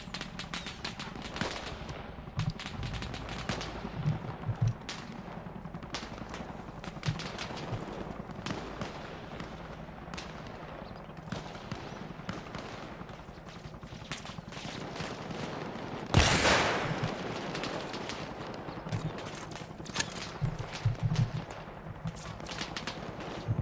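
Artillery fire mission landing just outside a base gate in Arma, heard as dense ongoing gunfire and distant booms throughout, with a loud burst of impact near the middle.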